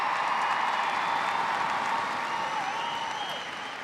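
Arena crowd applauding the runners-up Melbourne Vixens after the 2012 ANZ Championship netball final, a loud dense roar of clapping and cheering that holds steady and eases slightly toward the end.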